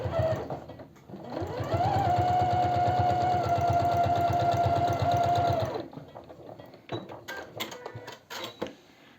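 A sewing machine stitches a leather wallet, running steadily and close for several seconds. It then stops, followed by scattered clicks and handling noises.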